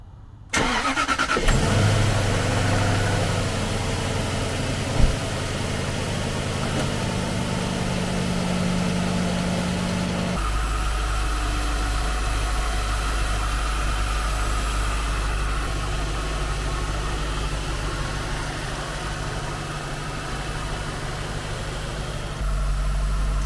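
Jaguar S-Type R with a supercharger pulley upgrade cranks and fires, then settles into a steady supercharged idle as it warms up, with a brief click early on and a deepening low hum partway through, close and continuous.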